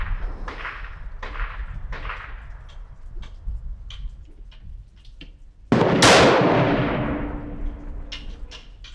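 A Savage Stealth Evolution rifle fires one loud, sharp shot near the end, its report decaying over a few seconds, preceded by a series of quieter clicks and taps.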